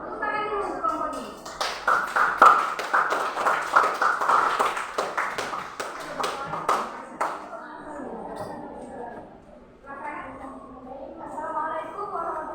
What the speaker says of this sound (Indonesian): Tepuk tangan dulu kelompok ini.